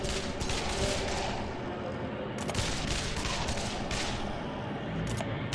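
Rapid gunfire from a Breach & Clear: Deadline Rebirth game session shooting zombies, dense bursts of shots continuing throughout, with brief gaps and a voice speaking faintly underneath.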